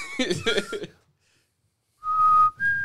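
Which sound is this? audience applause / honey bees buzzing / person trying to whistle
person trying to whistle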